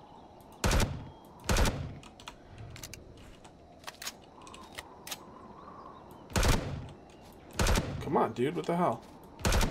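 Gunfire in the video game Empyrion Galactic Survival: several sharp, loud bursts spaced a few seconds apart, with quieter game ambience between them and someone talking near the end.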